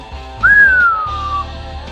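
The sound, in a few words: whistle in audiobook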